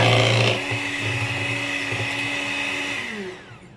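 An electric beater whirs steadily through milk bun dough in a home kitchen, a loud motor drone with a sharper burst at the start, then a pitch dip as it winds down at the end.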